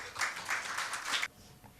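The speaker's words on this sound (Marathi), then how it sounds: "त्यांना आपण टाळ्या वाजवून प्रेरणा देऊया." Audience applause at an annual school gathering, a burst of clapping for young classical vocal and tabla performers that carries for about a second before cutting off sharply into quiet.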